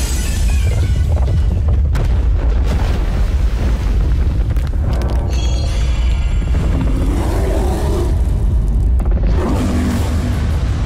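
Summoning Obelisk the Tormentor in Yu-Gi-Oh! Duel Links, a loud sustained booming rumble with eruptive blasts and roaring effects filling the whole stretch, with no talk over it.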